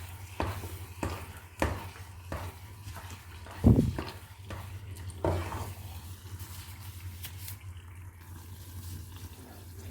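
Makhandi halwa being stirred and cooked in a pan, with a series of scraping, clattering strokes and a soft sizzle over a steady low hum, one stroke noticeably louder midway, no voices.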